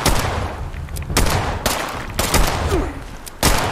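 Bursts of gunfire aimed at the player in Fallout 76, several loud sharp volleys spaced irregularly over a few seconds, close and dominant with little else around them.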